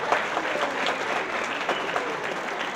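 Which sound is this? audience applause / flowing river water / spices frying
audience applause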